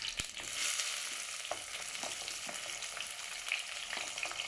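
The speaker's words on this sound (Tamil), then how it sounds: "வெங்காயமும் கருவேப்பிலையும் போட்டுடலாம். வெங்காயம் கொஞ்சம் வதங்கட்டும்." Onions and curry leaves sauté in hot oil with a steady close sizzle and crackle, broken by a few soft stirring scrapes, no voices.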